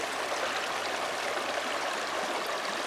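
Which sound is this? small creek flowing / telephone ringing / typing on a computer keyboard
small creek flowing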